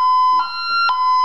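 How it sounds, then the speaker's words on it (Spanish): A Honeywell security alarm panel sounds as zone 10 is opened, giving a loud steady high electronic tone with two brief louder bursts, close and clear with no talking. "Alarma en zona 2 y zona 10."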